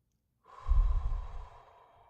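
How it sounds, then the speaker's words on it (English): One deep, slow cleansing breath drawn in and let out during a calm mindfulness practice, close and soft, a single breathy exhale heard alone. "And another cleansing breath, taking it in and out."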